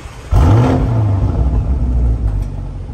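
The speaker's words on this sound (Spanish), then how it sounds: "Ahí el viejo David acaba de prender el carro" A Lamborghini Urus engine fires up with a sudden loud rumble, then settles into a deep, steady idle with a slight rev, close by and heard alone.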